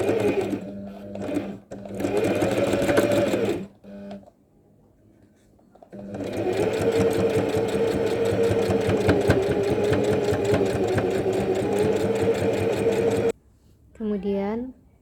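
Sewing machine stitching a seam about 1 cm in from a fabric neckline, likely on jumputan or shibori cloth. The motor runs steadily in a couple of short bursts, pauses, then hums on loudly for about seven seconds, with a brief voice near the end.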